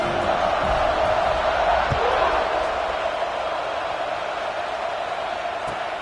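A football stadium crowd at a Nebraska game roars steadily at kickoff, a broad sustained cheer filling the space with a couple of faint thumps underneath.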